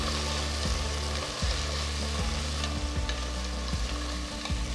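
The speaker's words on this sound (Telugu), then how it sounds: "ఇప్పుడు చిన్నగా తరిగిన 2 టొమాటోలు కూడా వేసి వేయించాలి." Chopped tomatoes and golden-browned onions fry in a pan for a hotel-style North Indian dish, a dense continuous sizzle with periodic stirring scrapes, close and loud with no talking.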